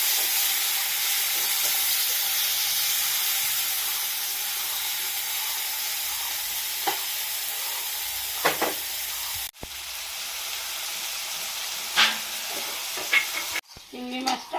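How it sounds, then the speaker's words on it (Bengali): Shrimp frying in hot oil in a pan, a steady close sizzle and hiss throughout, with occasional stirring clicks and scrapes toward the end. "চিংড়ি মাছটা ভাজা হয়ে গেছে,"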